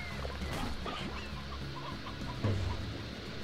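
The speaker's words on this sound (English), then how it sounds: "we need to pick up some briar hens" Several briar hens in the video game Slime Rancher cluck softly in short, scattered bursts over a low ambient background, fairly faint and close.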